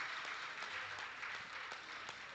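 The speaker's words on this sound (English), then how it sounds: "Give Alex Alvarado a huge round of applause." Faint audience applause at a regional powerlifting championship session in the Cayman Islands, a short steady patter of clapping from a crowd, heard from a distance.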